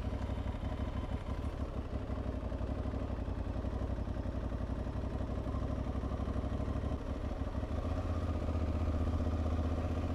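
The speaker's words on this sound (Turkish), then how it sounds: "Motosiklet." A motorcycle engine runs on a city street, a continuous mid-pitched chugging rumble with a faint rattle that stays at an even, moderate level for the whole stretch, with no talking.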